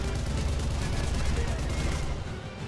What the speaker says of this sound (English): Or are those my gunshots?